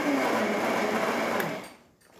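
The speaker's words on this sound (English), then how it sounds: "Now that we have coffee, the machine detected how much coffee was grinded into the brew unit, and now it should be brewing" A Gaggia Accademia coffee machine grinds and works coffee into its brew unit with a steady, close mechanical whir that cuts off abruptly and leaves near silence.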